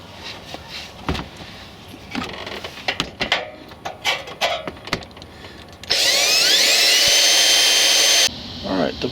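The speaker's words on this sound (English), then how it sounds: "8mm bolt using a 3/8 inch bit. It's a cobalt bit because we're going in the metal." A cobalt 3/8 inch bit drills through metal to remove an 8mm bolt on a Ford Crown Victoria P71 police interceptor, a steady loud whine lasting a couple of seconds after scattered clanks and handling noises.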